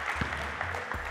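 Basketball players clapping during a no-middle defense drill in a gym, a few scattered claps close by over a steady background of ambient gym noise.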